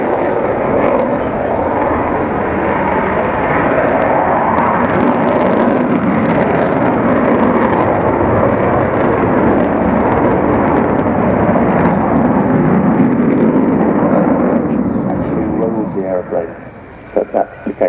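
A large aircraft at the RIAT airshow roars steadily overhead for a long stretch, a loud broad rumble that fades near the end, with a commentator's voice running underneath.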